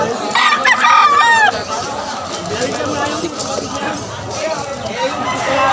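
Fighting-breed roosters crow and cluck close by at a pet market in Malabon, Philippines, a couple of rising calls early on, with people chattering over the birds throughout.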